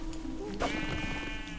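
A sheep in the video game Minecraft Dungeons lets out a single short bleat, clear and close, over steady game music and background noise.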